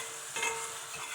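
About 400 grams of cubed lamb sizzles and fries in a pot, a soft, close crackling with faint stirring scrapes and no voices.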